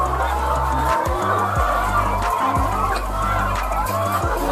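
Laying hens cluck across a poultry farm, a busy flock chattering steadily over a constant low mechanical hum.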